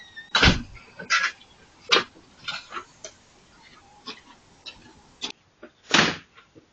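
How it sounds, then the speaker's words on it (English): The front door of a house opens as someone steps out, giving a string of latch clicks, knocks and scraping thumps of varying loudness, with a louder bump near the end. "But this is Denise coming out my front door to go home on Tuesday."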